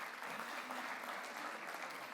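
A conference audience at an agricultural forum gives a steady round of applause, dense and even throughout, heard at a moderate distance.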